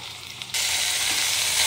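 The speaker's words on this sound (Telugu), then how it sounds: "మంచిగా వేగాలి నెయ్యిలో" Long beans, sweet corn and mint drop into hot ghee and break into a loud, steady sizzle of frying after a quiet moment, with a faint stirring scrape underneath.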